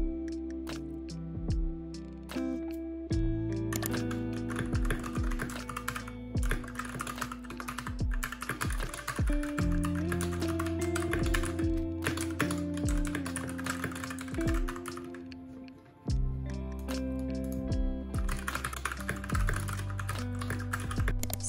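Fast, continuous typing on a computer keyboard while transcribing study notes, the close key clicks running over soft background music throughout, with no talk.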